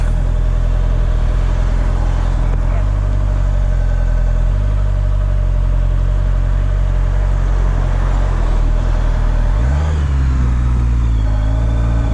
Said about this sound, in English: I think there's quite a quick car. I seem to speed off ahead of me there.